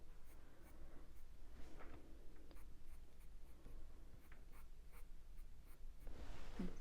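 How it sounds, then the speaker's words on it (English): A graphite pencil scratches steadily across paper while shading a squirrel drawing, a soft continuous rasp with faint repeated strokes, close and quiet, with no talking. "I'm just going to continue that all the way down while I've got this pencil."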